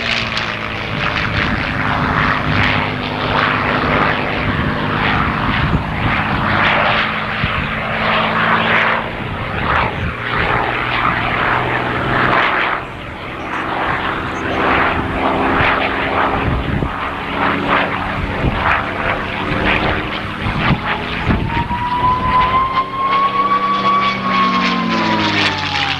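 A P-51D Mustang with a Merlin engine flies at the 1992 RAF Honington airshow, its loud propeller engine roaring and droning steadily and rising and falling in pitch as it passes overhead.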